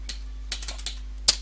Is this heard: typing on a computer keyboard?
yes